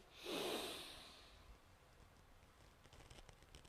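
One long, breathy exhale rushes out close up, then fades into soft background noise with faint patters.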